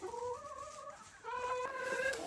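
Hens clucking inside a warm henhouse: a few close, drawn-out nasal clucks and calls, moderately loud, with a brief pause midway and no talking.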